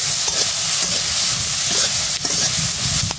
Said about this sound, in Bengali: বড়ই দিয়ে আর আলু দিয়ে আমি কষিয়ে নই।